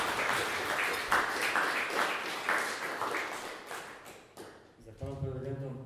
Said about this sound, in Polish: wielkie brawa dla naszych prelegentów